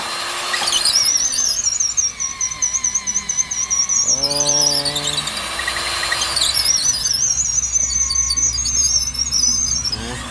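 Power drill boring into a concrete house pillar, a loud, close, continuous high-pitched grinding squeal that dips briefly in the middle as the motor bogs, then screams again; a man makes a short exclamation.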